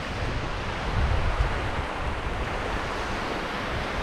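Strong wind buffets the microphone on the Danish coast, a loud continuous roar with gusting swells and surf wash beneath, no voices.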